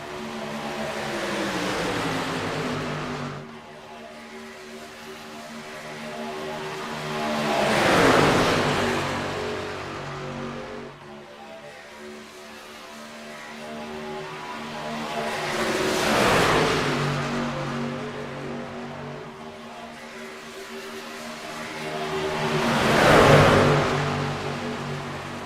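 Race cars at Talladega Superspeedway roar past in three separate waves, each swelling from a distant drone to a loud close whoosh and fading away again, with a steady background hum between passes.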